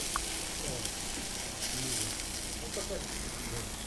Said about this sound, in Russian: Александр Пасечник жарит шашлык на пасеках в Андре